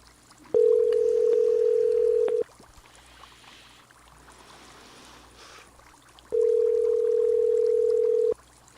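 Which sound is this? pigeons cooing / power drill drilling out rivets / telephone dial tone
telephone dial tone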